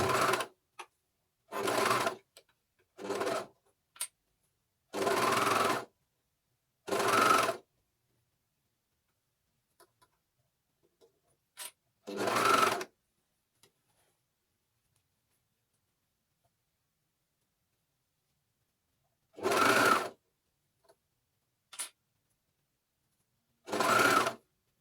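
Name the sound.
coverstitch sewing machine stitching a sleeve hem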